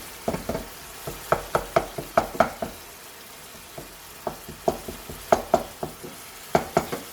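Fatty minced meat browning in a pan for bolognese sauce, a soft sizzle broken by a rapid series of sharp spatula scrapes and taps, bursts of stirring separated by a short pause, close by and without speech.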